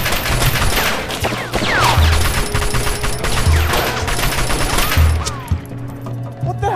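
Gunshots ring out in a Fallout fan-made series set in a post-apocalyptic wasteland. Loud, close gunfire comes in rapid repeated bursts and keeps up a fusillade for several seconds before it thins out near the end.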